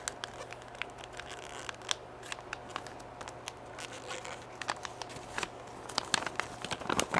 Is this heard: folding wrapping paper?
yes